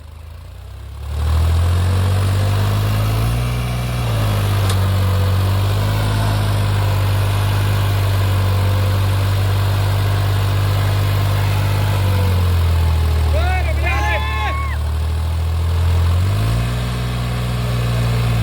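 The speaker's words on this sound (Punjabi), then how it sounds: "ਬਹੁਤ ਜ਼ੋਰ ਮਾਰਦਾ ਟਰੈਕਟਰ" A New Holland 3630 4x4 Super Plus tractor engine idles steadily with a deep low rumble, its pitch rising and dropping a couple of times as it revs, close and loud throughout.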